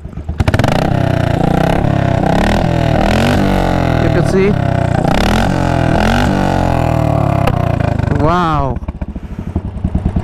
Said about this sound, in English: And this is the classic 500 model, and it has aftermarket exhaust on it.